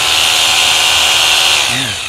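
A power hammer drill runs steadily at close range, a continuous loud motor whine with a bright buzzing edge that dips slightly in pitch near the end as it winds down.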